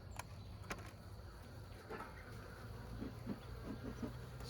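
Honeybees buzz as they fly out of hive boxes with the tops removed during winter preparation, a quiet steady drone with a few soft knocks of the woodwork.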